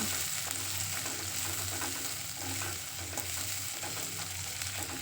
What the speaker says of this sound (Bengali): এবার ওই তেলের মধ্যে দিয়ে দেব একটা বড় সাইজের পেঁয়াজ কুচি পেঁয়াজটা হালকা লাল করে ভেজে নেব